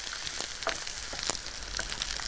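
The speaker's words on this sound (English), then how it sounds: "Keep the celery and the carrots sizzling away until they go soft." Celery and carrots sizzle steadily in a hot pan, a continuous bright crackling hiss with scattered louder pops, close and alone.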